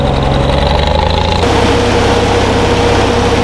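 A car engine idles just after a cylinder repair, still missing on one cylinder. A loud, close, steady rumble with a throbbing pulse shifts slightly in pitch partway through as the idle rises.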